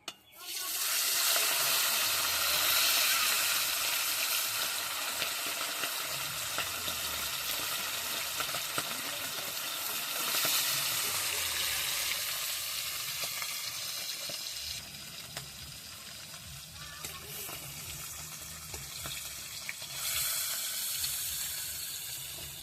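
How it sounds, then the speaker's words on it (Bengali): River fish fries in hot oil in a wok, giving a loud, continuous sizzling hiss that holds steady for over twenty seconds and eases slightly partway through. No voices are heard. "এবার মাছগুলো ভেজে নিই ভালো করে।"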